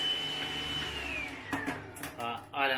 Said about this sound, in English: You have got a hairdryer, which I tested